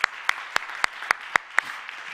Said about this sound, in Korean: 앞으로 이 청년교회 공동체를 이끌어갈 이 네 분의 사역자에 있어서 박수 한번 합시다